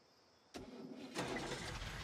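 A car in the video game Last Day of June cranks and starts with a sudden burst, then its engine rises in a steady, close hum as it begins to drive off, with no voices.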